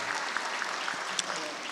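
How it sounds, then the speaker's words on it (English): Applause at a 2019 graduate hooding ceremony, a steady wash of many hands clapping at moderate distance, fairly faint and even, with a few sharper claps standing out. "So let's give her a round of applause for thinking about you all."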